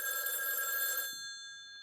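A telephone bell rings loud and close for about a second, a steady electronic trill that cuts off and leaves a faint fading tail.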